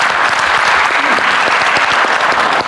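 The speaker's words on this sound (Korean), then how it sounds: "다시 한번 정은경 장관님께 감사의 박수 한번 부탁드리겠습니다." Audience applause at a Korean bio-innovation forum held in Songdo, a loud and even wash of many hands clapping that fills the brief moment without pause.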